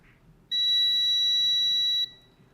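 A multimeter continuity test on a phone's EMI filter gives a single steady, high-pitched electronic beep, clear and close, lasting about a second and a half against a quiet background.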